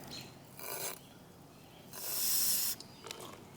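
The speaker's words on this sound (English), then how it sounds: "I'm going to use brake clean and a tube brush, and I'm going to clean out all that rust" Brake cleaner hisses in short sprays while a tube brush scrubs rust from a Jeep Wrangler JK rear caliper bracket, giving a few close bursts of loud hissing and rasping with quieter gaps between them.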